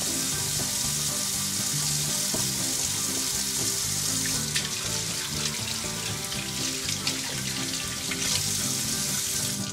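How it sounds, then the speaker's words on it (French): Hands being washed with soap under a running kitchen tap, a loud continuous splashing water stream close by with small clatters and no talk. "on va se laver les mains"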